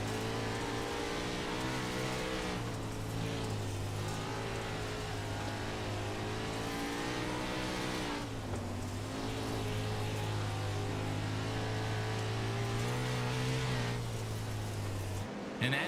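Game engines of 410 sprint cars howl together during a dirt-track sim race at Limaland Motorsports Park, a steady loud drone with layered pitches that dips briefly around a few moments, with no talking.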